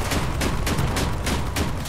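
Cannon firing in the vehicle combat video game Crossout, a loud, rapid run of sharp, repeated blasts at roughly regular intervals with no pauses between them.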